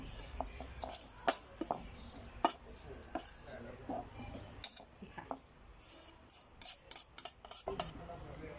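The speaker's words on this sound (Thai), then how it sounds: "ใส่ลงไปเลยโขลกรวมกันไปเลยคันนี้" Garlic being pounded with a mortar and pestle while making a Thai roasted-galangal chili paste: close, irregular thuds and knocks that repeat throughout, some sharper than others.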